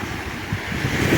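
Black Sea waves wash against the northern shore near Odessa in summer, a steady rolling surf with gusting wind noise and no voices.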